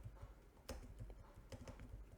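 Typing on a computer keyboard, with quick irregular clicking keystrokes, close and quiet, and no voice over them.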